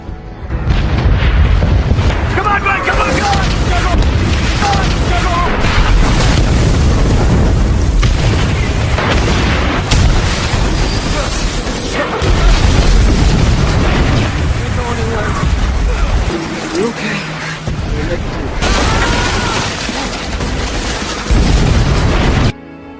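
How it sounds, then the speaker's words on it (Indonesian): Bombs dropped by Japanese forces explode repeatedly through a nighttime raid in the Pacific War, with loud, dense, rumbling booms that roll almost continuously, one blast crowding into the next, and a few brief lulls between them. "pada tengah malam kawasan mereka dihujani bom oleh"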